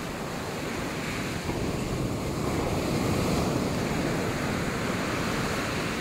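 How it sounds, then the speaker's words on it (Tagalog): Large ocean waves roll and break in a continuous roar of surf, mixed with buffeting wind on the microphone, steady and loud throughout with no speech. "Laki kasi ng alon eh."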